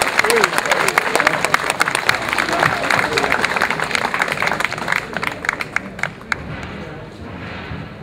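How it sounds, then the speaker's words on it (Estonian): Crowd at an outdoor protest rally applauding, sharp individual claps standing out within a loud, uneven burst that thins and fades toward the end, with voices mixed in. "Väga hea. Aplaus!"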